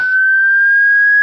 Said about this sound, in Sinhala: පොලිස් සයිරන් එකේ සද්ද නේද?